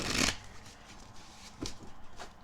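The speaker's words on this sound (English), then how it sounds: "I simply was shuffling this deck." A deck of tarot cards is shuffled during a Celtic-cross reading, with one loud riffling burst at the start and then softer scattered card flicks and shuffles close by.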